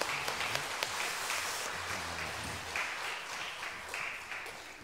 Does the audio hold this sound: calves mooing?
no